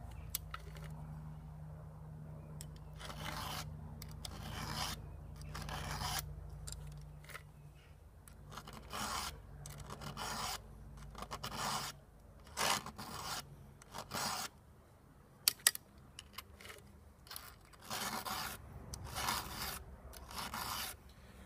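Repeated short rasping strokes of a file sharpening a chainsaw chain, steady and close, in regular bursts with brief pauses between.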